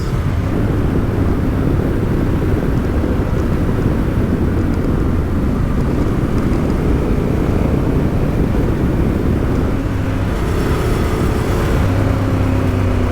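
A motorcycle drives steadily along winding mountain roads in Norway. The engine drones loudly and evenly throughout and is joined by wind roar. No one speaks.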